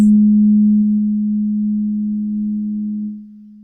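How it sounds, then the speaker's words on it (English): A tuning fork tuned to D rings with a single steady low tone that slowly fades over a few seconds. "this is a tuning fork that has been tuned to the note of D"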